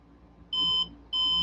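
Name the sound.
Killer B kill switch beeping on Losi DBXL 2-stroke RC truck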